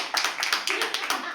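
An audience claps at a live poetry open mic at The Habitat, a short burst of brisk, uneven hand claps from a small crowd, fairly close, with some voices mixed in.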